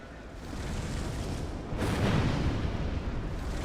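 In Dark Souls 2, a fireball explodes near explosive barrels and a wall, a dense, loud rumbling blast that swells midway and keeps roaring steadily, with no voices.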